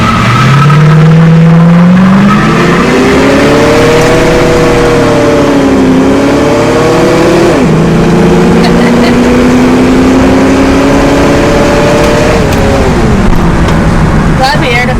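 A 1964 Ford Falcon convertible hot rod drives along, its engine droning loudly and close, rising and falling in pitch through repeated gear changes and throttle shifts, with wind noise throughout.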